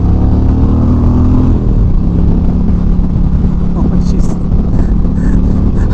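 A 2025 Indian Chieftain PowerPlus 112 Limited motorcycle cruising in fifth gear on a road past traffic, with a loud, steady low engine drone and wind rush from start to finish.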